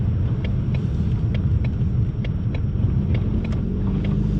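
A 2020 Ford Mustang turns through slush on a snowy road, a heavy low engine and road rumble heard from inside the car, steady and loud, with faint repeated ticks and splashes over it and no speech.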